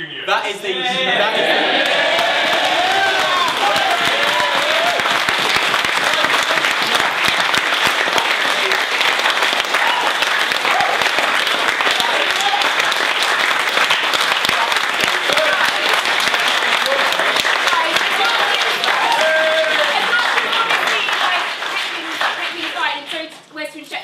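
Sustained, loud applause from a student forum audience fills the room for over twenty seconds, dense clapping with a few voices mixed in before it tails off at the end.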